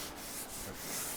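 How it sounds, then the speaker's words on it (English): Regular sandpaper rubs briefly and closely over wood whose stripped finish is still gummy, making a steady gritty scrape. "The one way to tell if it's still gummy for sure is just take regular sandpaper and"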